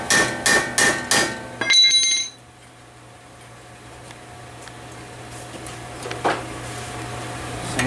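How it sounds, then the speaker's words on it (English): A hammer strikes a Phillips screwdriver to break loose brake bolts on a 2009 Hyundai Genesis, giving four sharp metallic bangs in quick succession followed by a clatter and then a quiet hum. "you take this Phillips screwdriver and the hammer, and you want to bang these"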